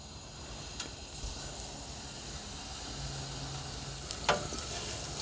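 A thin pancake of pig blood batter fries in a pan with a soft, steady sizzle and hiss, and a couple of brief clicks or taps partway through.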